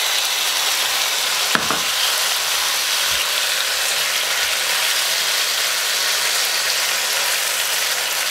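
Thinly sliced pork frying in hot peanut oil gives a loud, steady hiss and sizzle from start to finish, with one brief clack of a utensil early on and a few soft scraping stirs.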